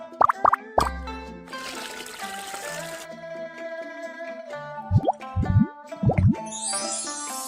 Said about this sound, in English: Let's soak the beans to make the tofu.